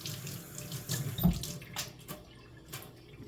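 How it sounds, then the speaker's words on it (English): Tap water runs into a sink as hands are rinsed beneath it, a steady close splashing hiss with brief louder gushes, in a home kitchen while soup is being made. "Let me rinse my hands for a sec."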